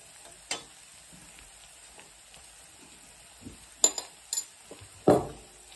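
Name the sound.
stirring and mixing spices in a frying pan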